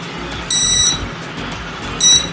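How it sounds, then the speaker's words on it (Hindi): Buzzer of a drone's remote controller gives two short, shrill electronic beeps about a second and a half apart, loud and close against faint background hiss. "और ये है इसका बजर।"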